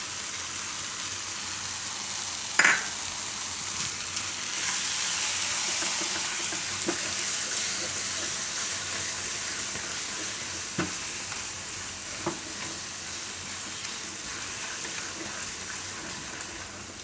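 Yogurt going into a sizzling ridge gourd and patra curry: an early sharp clatter, then a steady frying hiss with occasional faint clinks and stirring sounds, no voices.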